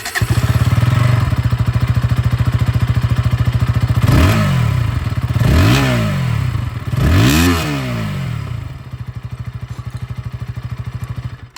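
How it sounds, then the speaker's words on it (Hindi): A KTM Duke 160 motorcycle engine idles steadily up close, broken by three sharp throttle blips that rev up and drop back, then settles into a loud, even exhaust idle. "तो जो एग्जॉस्ट साउंड है वो भी आप लोग सुन लीजिएगा एक बार।"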